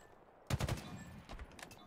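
A rapid burst of automatic gunfire in a Spartan-themed shooter video game, several quick shots in a row followed by scattered further shots, fairly close and with no talking.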